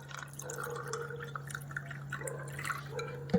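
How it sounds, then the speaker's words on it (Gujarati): Cold water trickles and drips softly into a glass of lemon sherbet mix in small splashes, heard quietly over a low steady hum. "જે ઠંડુ પાણી છે તે આપણે ધીમે ધીમે આમાં એડ કરીશું"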